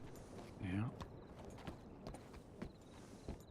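Horse hooves clip-clop in a video game, a walking rhythm of light, close hoof hits heard under brief overlapping talk from a nearby voice.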